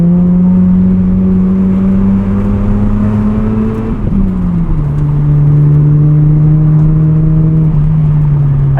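A 1990 Mazda RX-7 FC rotary engine hums loud and steady from inside the car on a canyon drive, its pitch easing down briefly as the throttle changes, then holding a constant drone.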